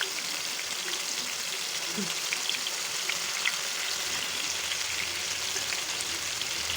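Prawns frying in hot oil for a prawn roast, a steady dense crackle and hiss that holds evenly throughout at moderate level with no talk over it.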